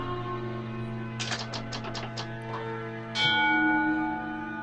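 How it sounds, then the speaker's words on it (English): A bell in The Lost Crown rings at night, a quick run of bright metallic strikes and then one longer ringing tone over a steady low musical drone, with no speech. "does the bell really ring at this time of night?"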